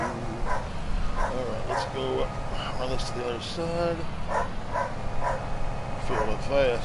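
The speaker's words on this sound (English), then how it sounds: "I'm sorry if you hear the dogs in the background." Several dogs bark, yip and whimper in the background at a house, in scattered bursts of varying pitch, while a person talks over them in the foreground.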